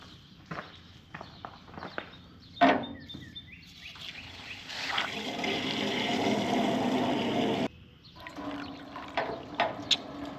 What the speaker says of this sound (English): So I'm just gonna fill that up with water instead of wasting any more antifreeze